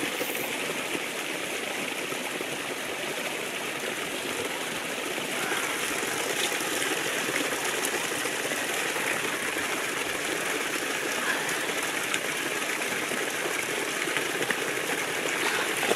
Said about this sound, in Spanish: enseguida he encontrado un arroyuelo